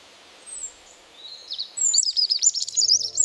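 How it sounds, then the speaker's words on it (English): A forest bird calls with thin, high chirps, faint and sparse at first, then turning into a busy run of rapid tweets that carries on to the end. "Its call echoes softly, a gentle reminder that this forest is alive."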